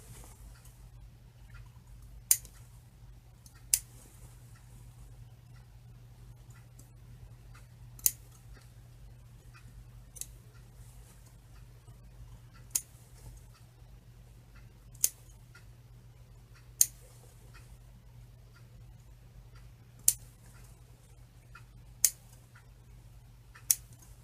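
Sewing scissors make sparse, crisp single snips every couple of seconds as they clip the fabric seam allowance on a Butterick men's dashiki. The cuts are quiet over a low, steady hum.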